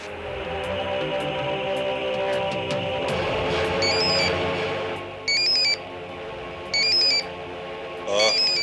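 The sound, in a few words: phone ringing after dialing a number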